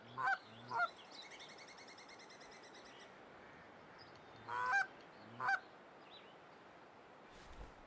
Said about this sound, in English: First, I say we call in some geese.